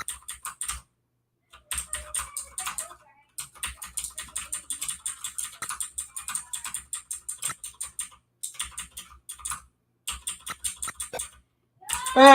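Typing on a computer keyboard during a live stream: close, steady bursts of crisp key clicks in rapid runs, broken by short pauses, ending with a louder swishing noise.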